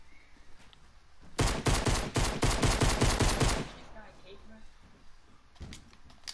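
Rapid burst of video game pistol gunfire lasting about two seconds, loud and close with sharp evenly spaced shots, followed by a quiet stretch and a brief second flurry near the end.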